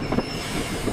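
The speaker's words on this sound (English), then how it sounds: "The train is on time." A train runs on rails with a steady rolling rumble and faint rhythmic clacks, heard for about a second.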